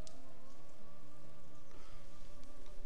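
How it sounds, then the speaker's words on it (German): Rain falls in the online video game Champions of Regnum as a steady, even hiss layered under sustained tonal game music. "Jetzt regnet's noch."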